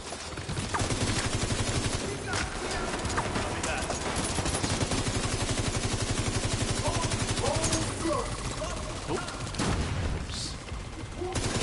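Sustained machine gun fire in The Division 2, during the Grand Washington Hotel Invaded mission on Challenging difficulty, rattles as a dense, continuous stream of rapid shots with scattered impacts layered on top, steady and loud throughout.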